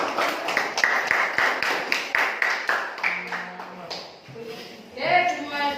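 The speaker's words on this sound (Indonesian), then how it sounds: "Oke, tepuk tangan untuk kelompok" A classroom claps for group 3: a brisk burst of hand clapping from several students, close and lively, fading after a few seconds as voices take over.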